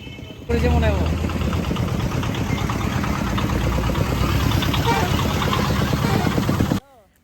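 Engines of four motorcycles idle close by on a group bike trip to Lalganj beach camp, a steady low rumble running unbroken for about six seconds before cutting off abruptly near the end.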